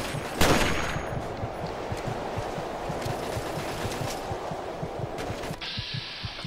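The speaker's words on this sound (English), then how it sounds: "I'm glad they're shooting at him." Video game gunfire in Fallout 3: a dense, rapid rattle of automatic shots continues steadily at moderate distance, opening with a sharper burst and ending in a brief hiss.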